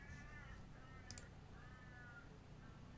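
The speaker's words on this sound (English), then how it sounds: "That crow is very chatty outside." A crow caws outdoors in a few repeated hoarse calls, fairly distant and faint over a steady low background rumble.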